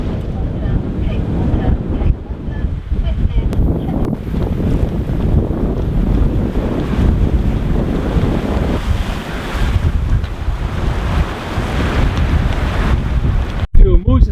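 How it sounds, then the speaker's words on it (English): Gusty wind of roughly 17 to 20 knots roars across the microphone on a sailboat running downwind between Shetland and Orkney, with light wave wash beneath; a loud, steady buffeting rush fills the whole stretch, ending in a sharp thump. "the wind is quite gusty"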